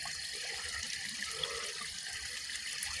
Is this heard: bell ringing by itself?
no